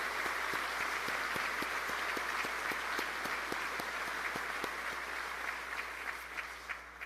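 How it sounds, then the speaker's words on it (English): Applause from the audience at the Houston mayor's State of the City speech, a steady, dense wash of many hands clapping, loud and sustained for the whole stretch, easing slightly toward the end. "Let's give them a round of applause and our deepest thanks"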